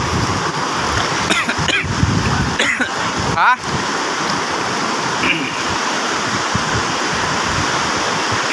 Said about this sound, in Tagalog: Sobrang lakas ng tubig dito.